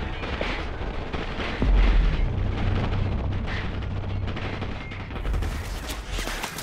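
Dense, continuous gunfire in Call of Duty: Modern Warfare Remastered with heavy booming impacts and a low rumble, loud and steady throughout with no talking.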